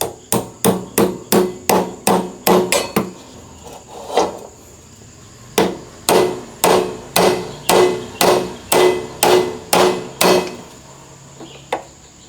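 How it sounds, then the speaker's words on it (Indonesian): Light hammer taps fitting the chuck onto a Mollar 13mm bench drill, striking metal in a steady rhythm, two runs of about a dozen blows separated by a pause, then one last tap. "Yang terakhir kita pasang caknya. Kita pukul pelan-pelan ya."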